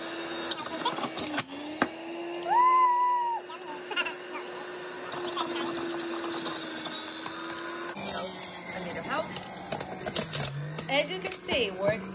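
An electric juicer runs on low speed, setting one, while celery goes through it, giving a steady motor whine with grinding and clatter as stalks are fed in, and a person talks over it.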